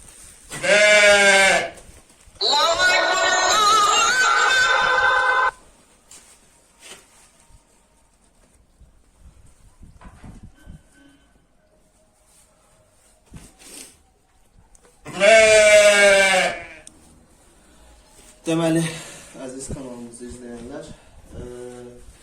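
Sheep and a lamb bleat loudly on a farm in several separate bursts, close by, with quieter rustling and faint sounds between the calls.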